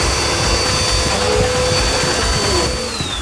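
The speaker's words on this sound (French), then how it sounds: "passer l'aspirateur" A vacuum cleaner runs steadily with a loud, close, continuous roar and a faint whine, lasting throughout without a break.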